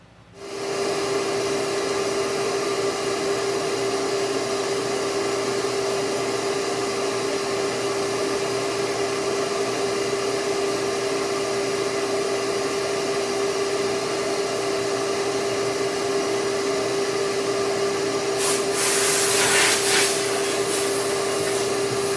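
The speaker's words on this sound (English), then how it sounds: "let's fire up the pad cleaner and get this cleaned up for the next round" A pad cleaner runs to clear a clogged sanding pad during a restoration of a 1937 Hudson Terraplane, giving a loud steady motor drone with a constant tone and a brief harsher burst near the end.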